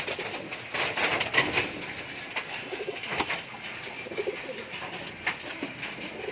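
Giribaz high-flyer pigeons coo softly and repeatedly in a loft nearby, their low murmuring calls overlapping with faint rustles and background noise.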